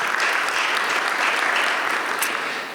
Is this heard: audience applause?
yes